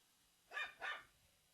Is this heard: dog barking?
yes